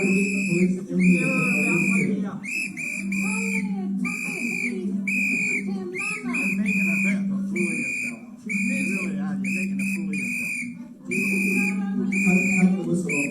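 A whistle at a street protest is blown in repeated shrill, piercing blasts close by, interrupted by short gaps, with shouting and talking voices mixed underneath.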